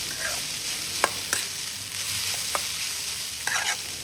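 Fried mackerel being stir-fried into nasi goreng in a hot pan, a steady close sizzle broken by several sharp spatula scrapes and clacks against the pan, with no talking.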